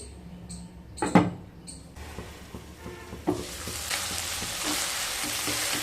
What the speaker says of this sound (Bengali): এবার লো টু মিডিয়াম স্টিমে মশলাগুলোকে ভালোভাবে কষিয়ে নিয়ে তারপর ফিরে আসছি